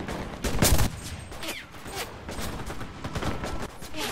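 Gunfire in the WWII shooter game Enlisted during a Sherman M4A2 tank battle: a loud burst of rapid shots near the start, then scattered sharper reports and ongoing combat noise throughout, with no talk over it.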